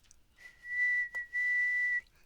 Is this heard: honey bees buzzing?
no